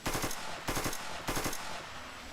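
Video-game gunfire from a Kiowa helicopter's gun in DCS, heard as three rapid bursts of automatic fire separated by short pauses, fairly faint with no talking.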